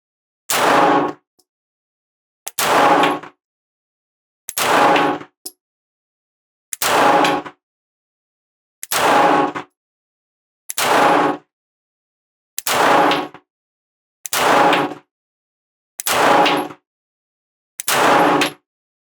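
CZ P-09 C Nocturne pistol fired at an outdoor range, ten sharp, loud shots evenly spaced about two seconds apart, each a short crack with silence between.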